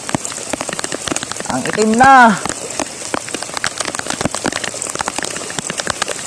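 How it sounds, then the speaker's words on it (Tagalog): Heavy rain pours down steadily as a dense, even hiss with sharp drop ticks, loud and close, while someone speaks briefly in Filipino over it. "Sobrang lakas ng ulan."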